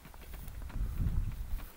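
Horses walk across open range land where cattle graze, their hooves making a soft, steady run of low thuds that grow a little heavier midway, with faint outdoor wind and no clear talk.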